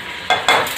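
Raw rice being fried and stirred in a pan while cooking chicken biryani, with a steady low sizzle and two louder bursts as the grains are turned, close by and without voices.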